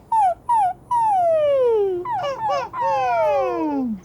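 A voice imitates whimpering puppies: two short yelps followed by long, drawn-out falling whines, then a wavering cry, loud and close.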